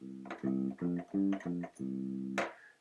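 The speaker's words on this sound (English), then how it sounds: "We're going to have fingerstyle bass, which sounds like this." A short phrase of fingerstyle electric bass from a GarageBand software instrument, six or so evenly sustained tones played close and clear, ending with a brighter attack.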